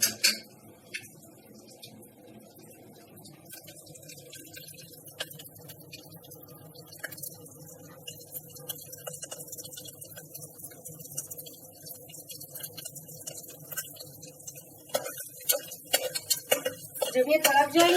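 Whole spices, including crushed black cardamom and whole coriander seeds, crackling in ghee in a pot for Rajasthani lal maas, a faint sizzle with scattered pops and utensil clinks, growing louder and sharper toward the end.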